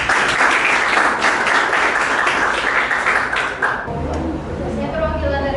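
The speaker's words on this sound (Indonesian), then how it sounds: "Silakan tepuk tangan untuk nomor 1 lagi sekali." Applause from a classroom audience for the first group presenter in a teacher-training practice session, dense clapping that fills the first four seconds and then thins into a quieter room tone with faint voices.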